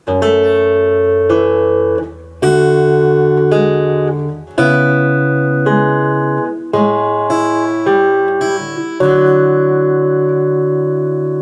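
A plucked fingerstyle guitar melody, clear harmonic notes ringing over a steady bass line, with a few brief pauses between phrases.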